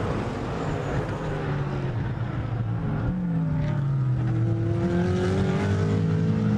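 GT1 race cars, a Ferrari, a Lamborghini and a Ford, roar past at the Slovakia circuit during a championship race. Their engine notes rise and fall as they sweep by, loud and continuous, with overlapping whines and shifting pitch.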